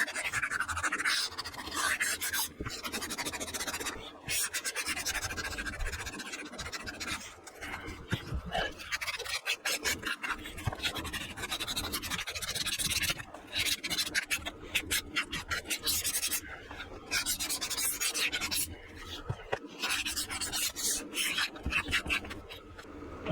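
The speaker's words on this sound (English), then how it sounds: "Just sand off some of the fuzzies." Hand sanding the fuzzy frayed fibers off a sheet of blue carbon fiber fabric, a steady close rasping rub that runs continuously in quick strokes with short pauses, no voices.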